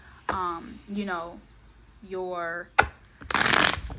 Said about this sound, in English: I'm going to shuffle at midpoint